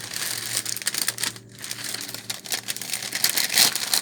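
Plastic wrapping paper crinkles and rustles steadily as it is gathered and bunched around a soap flower bouquet, with a brief pause partway through and a sharper crackle near the end.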